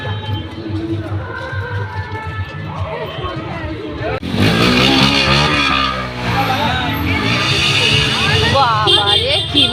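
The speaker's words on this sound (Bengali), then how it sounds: "বাবারে কি মোটরসাইকেল এটা" A motorcycle engine roars in loudly partway through with rising and falling revs, over a steady background of crowd chatter and voices.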